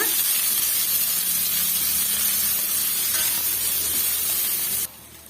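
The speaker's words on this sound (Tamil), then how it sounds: "நான் பெரிய வெங்காயம் எடுத்து பொடிசாக கட் பண்ணி வச்சுருக்கேன் சேர்த்துட்டு வதக்கி விட்டுக்கலாங்க" Finely chopped big onions sautéing in a hot pan, a loud continuous hissing sizzle close by that cuts off abruptly near the end.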